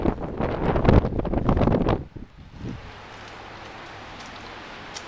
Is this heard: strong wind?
yes